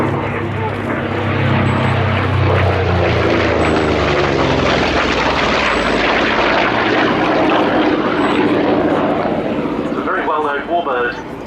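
A WWII Corsair propeller fighter painted as a Fleet Air Arm Mark IV drones loudly overhead at the Yeovilton air display, its engine roar steady and then shifting as it passes, while a commentator talks over it.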